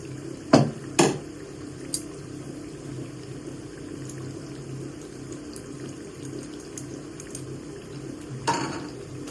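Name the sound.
parippu vada frying in oil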